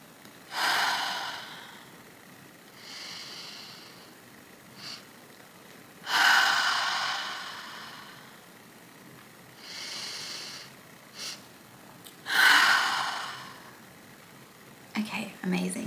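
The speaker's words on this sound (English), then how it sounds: "essentially 2 inhales through the nose and a nice audible exhale" Slow guided breathing: three rounds of a double sniffing inhale through the nose followed by a long, audible exhale, close and quiet, spaced several seconds apart in an otherwise silent room.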